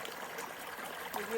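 Water trickling and streaming over a small crossing on a jungle trail, a steady broadband wash running throughout, fairly close, with a brief louder splash near the end.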